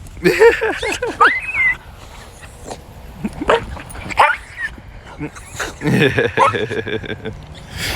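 A dog yips, whimpers and barks in agitated, uneven bursts close by, while a person talks to it in between.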